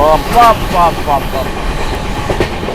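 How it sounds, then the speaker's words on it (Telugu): The 12621 Tamil Nadu Superfast Express from Chennai Central to New Delhi runs at about 130 km/h past Vedayapalem without stopping. A steady, loud rush of rail noise sits under brief tonal calls near the start. "నిజంగా ఒక స్టేట్ ట్రైన్ పరిగెడితే ఇలాగే పరిగెత్తాలి అన్నట్టు స్లిప్ కొట్టాడండి వేదాయపాలెం"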